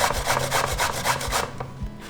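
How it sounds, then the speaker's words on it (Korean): A radish rubbed steadily across a kitchen grater for Korean oyster salad, giving close, rhythmic rasping strokes that repeat about every quarter second before stopping. "그래서 이제 무를 강판에 갈아 볼게요."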